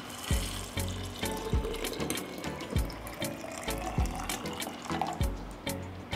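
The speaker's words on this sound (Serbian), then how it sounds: "Voda se zagrejala i preliću preko borovnica" Hot water splashes and trickles steadily as it is poured over blueberries in a container, with small irregular knocks and clinks throughout; no voices.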